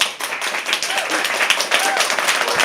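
An audience applauds and claps at a live poetry open mic at The Habitat, a dense, steady wash of hand claps, fairly loud and close, holding for a few seconds with some voices mixed in.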